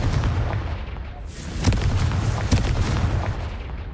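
Explosive spells in the game Hogwarts Legacy go off as a run of heavy booming blasts, with a rumbling low roar between several sharp detonations, loud and dense for the whole stretch.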